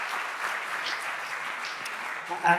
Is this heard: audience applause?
yes